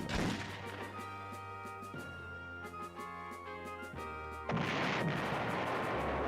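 An anti-tank gun in the PlayStation game Panzer General fires in a few heavy booming shots spaced a couple of seconds apart, over sustained synth game music with a louder burst near the end.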